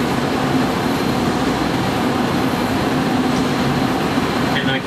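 Steady, loud rumble of trains and rail cars on active tracks at Union Station in Chicago, heard from a boat on the river, a continuous drone with no distinct events.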